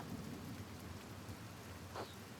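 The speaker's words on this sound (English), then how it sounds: "Look at this rain." Steady rain pours with low rumbling thunder throughout a stormy scene in the video game Pentiment, a continuous dense wash with no speech.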